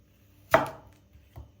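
A single sharp knife chop on a cutting board, followed by a fainter second tap a moment later, close and otherwise quiet, while chopping ingredients for chicken sauté.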